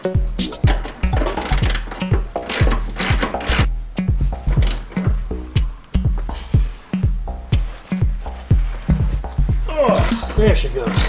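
A ratchet wrench undoes the four bolts on the rear differential hanger of a 1968 BMW 2002, giving close, loud bursts of rapid rhythmic clicking that repeat steadily throughout.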